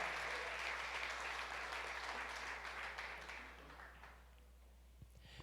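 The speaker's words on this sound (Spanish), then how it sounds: "Dele un aplauso al Señor," Congregation applauding during a Sunday sermon in church, a broad wash of many hands clapping that holds steady and then fades away toward the end.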